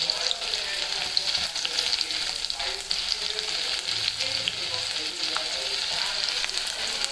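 Onion and chili fry in hot oil for dal khichdi, a steady loud crackling sizzle running throughout with occasional stirring knocks in the pan.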